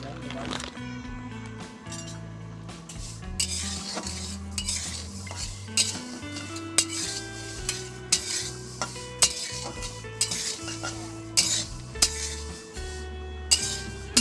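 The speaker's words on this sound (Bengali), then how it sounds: "এখানে আমি দেখো কড়াই বসিয়ে দিয়েছি, দিয়ে মুগ ডালটা ভালো করে ভেজে নেব।" Moong dal being dry-fried and stirred in a wok, with a steady run of metal spatula scrapes and clinks against the pan over a busy background that covers much of it.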